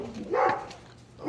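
A single short dog bark sounds close by, followed by quiet and the start of another yelp at the end.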